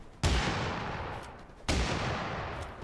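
Two heavy shotgun blasts fired in the battle game TABS, each a loud broadband crack with a long decaying tail, spaced about a second and a half apart with nothing else heard.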